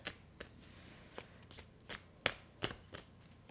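Tarot cards drawn from a deck give a series of soft, crisp snaps and slides, spaced irregularly and heard close up against quiet background.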